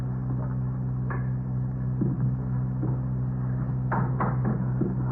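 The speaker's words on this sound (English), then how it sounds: "Open the door." A door opening in an old Dragnet radio drama, heard as a few faint wooden clicks and a latch-like clack over a steady low hum, with quiet shuffling movement in the room.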